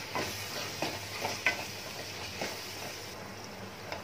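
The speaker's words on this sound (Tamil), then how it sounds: "மறுபடியும் எண்ணெய் தனியாக பிரிஞ்சு வர வரைக்கும் நல்லா ஃப்ரை ஆகட்டும்" Base masala with spice powders frying in oil until the oil separates: a quiet, continuous sizzle with occasional light spatula scrapes and stirs, nearby and without voices.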